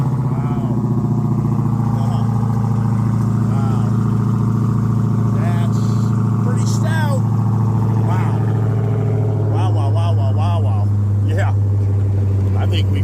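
A loud engine idles with a deep, steady rumble and continuous exhaust drone, while chirpy background sounds and voices occasionally come through.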